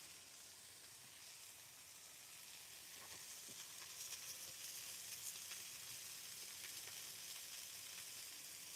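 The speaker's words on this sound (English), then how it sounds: "put these peppers down in the grease of the Marrow burgers" Peppers sizzle in burger grease on an outdoor grill, a faint, steady hiss that grows a bit louder and crackles with small pops partway through.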